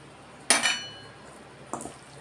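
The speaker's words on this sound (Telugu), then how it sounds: "క్యాప్సికం కూడా వేసేస్తాను టమాటా కూడా వేసుకుందాం" Chopped onion, capsicum and tomato tipped into a pan for a Godavari-style prawn fry: one sharp clatter and sizzle, then a second smaller clink and rustle a moment later, close and fairly quiet with no talking.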